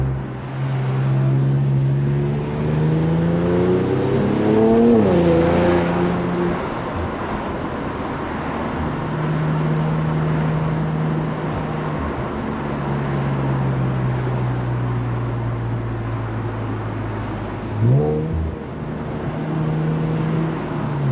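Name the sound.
Infiniti Q50 Red Sport engine revving and downshifting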